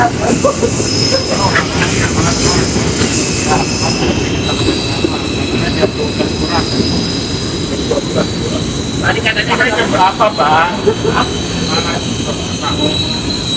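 Trains rumble through Manggarai station in Jakarta, with wheels squealing in long, high, bending tones over a steady mechanical roar; people talk nearby throughout.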